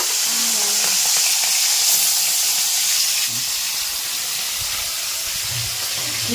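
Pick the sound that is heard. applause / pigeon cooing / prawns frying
prawns frying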